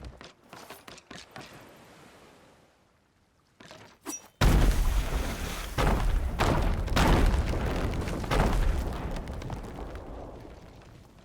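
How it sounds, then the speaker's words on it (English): A large explosion in the pirate game Sea of Thieves, heard through spatial audio: after a few quiet clicks and knocks, a sudden heavy boom erupts and rolls into a long, loud rumble of debris and crackling blasts with no talk. "that was obviously a lot bigger of an explosion than we had in the other test"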